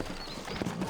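Horse hooves clip-clop in Red Dead Redemption, set in New Orleans, a brief run of soft, muffled steps under a busy ambient bed.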